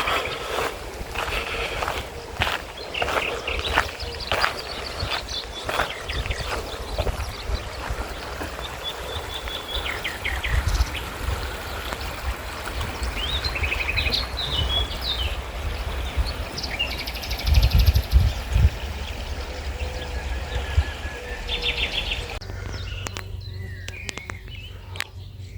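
A small river along a countryside walking path flows with steady broadband babbling, joined by occasional bird chirps and brief footsteps or knocks, fairly close and moderately loud.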